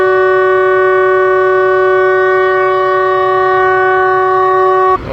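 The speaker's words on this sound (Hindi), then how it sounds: "इनिशियल डिपार्चर विसल हो गया" Pakistan Railways locomotive 6426 on the Khyber Mail sounds a loud, sustained departure whistle that holds one steady harmonic tone for about five seconds before cutting off abruptly, with no voices.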